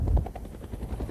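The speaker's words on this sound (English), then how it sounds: "Helicopter gunships. And these two are going off to bandit country right now." Military helicopter gunships set off in Pakistan's Swat Valley, their rotors chopping in a faint, rapid thud from a distance for a brief moment.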